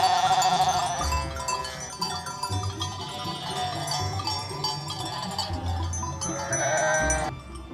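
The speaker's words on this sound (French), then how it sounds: "ils ramènent des moutons qui se sont égarés" Sheep bleat amid a clanging cowbell and busy livestock noise in the mountains as stray sheep are brought back, several animals calling over a dense, continuous backdrop.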